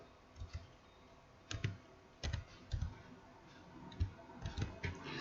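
Keys click on a computer keyboard while a function is entered in an Excel spreadsheet, with soft, irregular taps and short bursts of typing close to the microphone.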